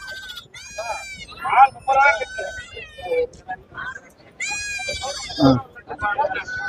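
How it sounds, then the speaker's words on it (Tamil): Mylambadi sheep lambs bleat at the Kunnathur goat market, two long, wavering, close-up cries rising over someone talking, with busy market voices murmuring in between. "இது பாத்தீங்கன்னா மயிலம்பாடி ஆட்டுக்குட்டிம்பாங்க செம்மறி குட்டி சூப்பராக இருக்கு"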